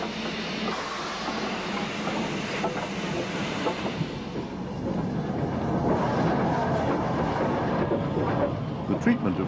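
Banking locomotives and trains work on the Lickey incline near Bromsgrove, a steady rolling rumble of rail wagons with a faint clickety-clack building slightly louder toward the end, with no talk.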